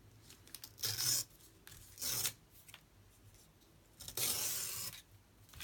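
Scissors trimming wax paper for a handmade journal pouch, a few short crisp rustling cuts and crinkles close by, separated by quiet pauses, with no talk.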